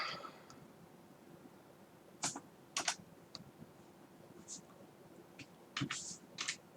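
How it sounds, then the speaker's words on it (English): Computer keyboard keys clicking in a few short bursts during text entry in Filmora 10 editing software, close and fairly quiet over a steady low hum, separated by pauses. "We're going to double click on it. And we're just going to type in thanks"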